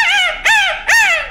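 A man imitates the call of a grey junglefowl with his voice in three rising, harmonic cries, each swelling then trailing off, loud and close with no other sound.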